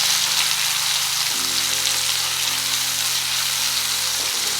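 Long-sliced onions fry in a pan while cooking vegetable pulao, giving a steady, dense sizzle that holds evenly from start to finish over a faint low hum.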